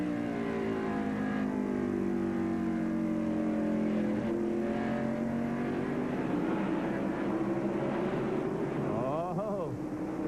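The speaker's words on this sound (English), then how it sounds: "Sterling Marlin and Rick Mast are racing for the 7th position." NASCAR stock cars racing in the 1996 Tyson Holly Farms 400 at North Wilkesboro, with a continuous roar of engines whose pitch rises and falls as cars pass, heard in a steady stream. A commentator talks over it.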